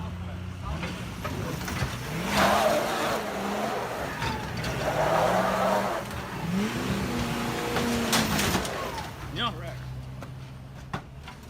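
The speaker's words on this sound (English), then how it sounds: "Lopez jumped back in his Ford, started it, and began his heavy-duty rodeo" Ford car engine revving hard in repeated rising and falling surges while the driver spins doughnuts, with tire noise and shouting voices over it.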